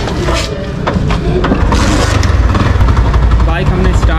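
Motorcycle engine, a Yamaha YBR125 with petrol mixed into its carburettor, starting and settling into a steady close idle, with someone talking over the running engine.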